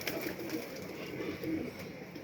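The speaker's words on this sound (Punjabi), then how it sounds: "ਬੜਾ ਸ਼ਾਨਦਾਰ ਪੱਲਿਆਂ ਵਾਲਾ ਕਬੂਤਰ ਆ" A pigeon coos softly and steadily at close range, low rolling murmurs repeating with no voices around.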